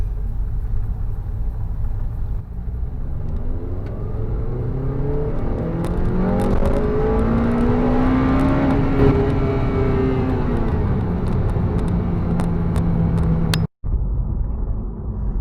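A Honda Civic Type R FN2 engine climbs from about 1,500 RPM in one long, loud rev, the pitch rising steadily, peaking near the middle and easing back down, with the sound cut off briefly near the end.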